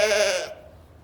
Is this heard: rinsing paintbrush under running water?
no